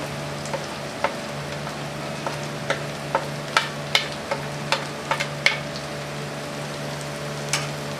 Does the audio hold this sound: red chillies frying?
yes